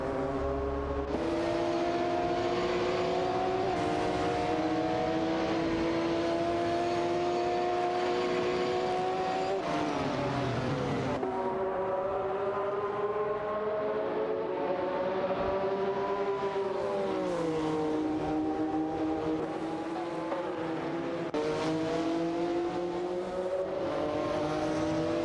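Racing cars in a video game, including a Porsche 911 GT1 and a McLaren F1, drone steadily with layered engine tones rising and shifting through gear changes, loud and continuous throughout.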